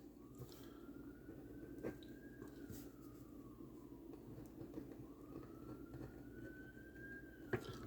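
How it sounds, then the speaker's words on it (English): A faint ambulance siren passes in the distance, its wailing tone rising and falling in two slow sweeps over a low background rumble, quiet and far off. "As you hear the ambulance go by"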